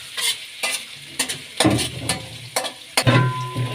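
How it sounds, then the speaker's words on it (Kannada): Ginger, garlic and green chillies frying in oil in a pan as it is stirred: bursts of sizzling and scraping come in uneven strokes, close and fairly loud, with clinks of the utensil and no voices. "ಹಸಿಮೆಣಸಿನ್ಕಾಯಿ ಎಣ್ಣೆಲೆ ಚೆನ್ನಾಗಿ ಫ್ರೈ ಆಗಲಿ"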